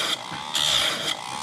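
An Oregon chain grinder sharpens a chainsaw chain, its motor whirring steadily close by while the wheel touches the teeth in two short, brighter grinding passes.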